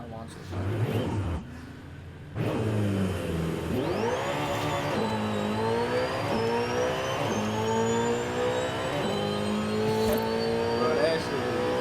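Ferrari SF90 Stradale engine in a racing game builds from a short drop into a long, rising high-pitched rev, rpm climbing through several gear shifts, loud and continuous, with a voice talking over it at first.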